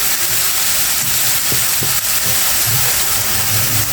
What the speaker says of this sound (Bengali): এটা ভেজে নেব সাথে একটু লবণ আর একটু হলুদ দেবো